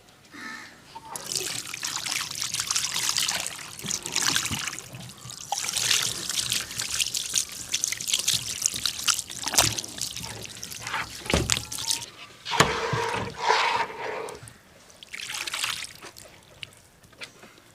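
Water runs and trickles steadily while cleaned mud fish are washed, with splashy bursts and muffled voices over a continuous wet wash.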